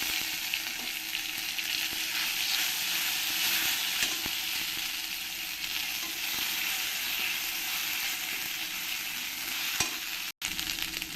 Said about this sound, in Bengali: আদাটা আমার ভালো করে ফ্রাই করা হয়ে গেছে